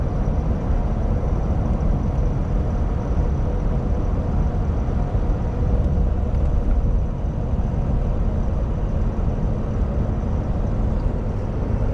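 A Ford Powerstroke diesel truck hauls a heavy load uphill, its engine a loud, steady, unbroken low rumble and drone from inside the cab, with no talking.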